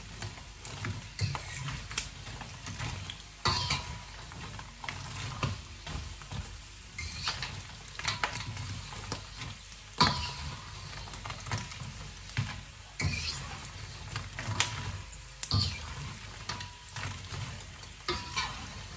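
Chicharon frying in very hot oil, a continuous crackling sizzle punctuated by frequent scraping stirs and bursts of popping, moderately close, with no talk heard.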